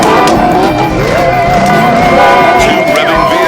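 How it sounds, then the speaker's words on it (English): Two V8 engines rev loudly at a night car wash while car alarms wail and warble throughout, a dense continuous wall of sound with rising and falling alarm tones. "Two revving V8s and the alarms went berserk."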